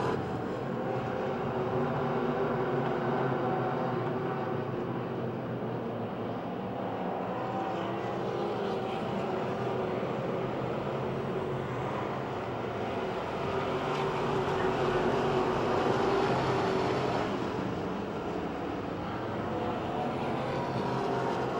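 Race cars at Pennsylvania Motor Speedway in Pittsburgh roar together in a loud, continuous engine wash that swells and eases as the pack circles the track.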